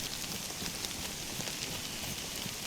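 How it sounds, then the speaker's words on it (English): Rain falls in the DayZ survival game outdoors near a road. It makes a soft, constant hiss of drops that stays fairly quiet and unbroken throughout, with no talking. "Ah, the sounds of the rain."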